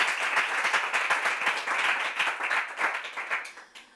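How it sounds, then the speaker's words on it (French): Lively clapping from a small group after a correct answer in a Bible quiz, close and rhythmic with uneven bursts, gradually tapering off at the end. "Tu peux applaudir très fort."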